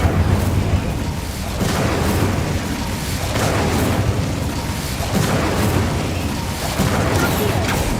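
Incendio fire spell cast again and again in a Harry Potter video game, a string of loud whooshing bursts and booms that run together over about eight seconds with no pause, close and steady, with no voice.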